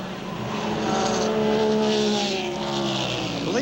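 Big V8 Trans-Am race cars roar along the track at Watkins Glen in 1991, a loud, sustained engine howl that rises in pitch as they accelerate up the hill.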